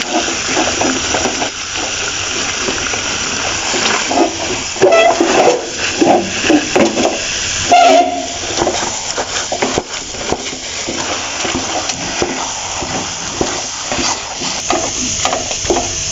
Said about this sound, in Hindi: बराबर इस तरह आप चम्मच चलाते रहें जब तक कि हलवा जो है वो कढ़ाई से अलग होना ना